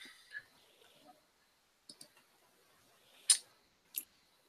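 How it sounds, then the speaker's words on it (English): Computer mouse clicks, a few sharp isolated clicks spaced irregularly against near silence, faint and close. "I'm clicking on this because it looks funny"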